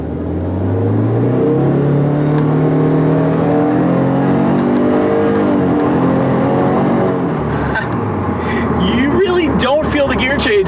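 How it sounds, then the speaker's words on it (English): A 2017 Subaru WRX accelerating in automatic mode, its engine note rising steadily in pitch through the gears, loud and continuous, then settling and shifting near the end. "we do a quick little acceleration with it in automatic mode"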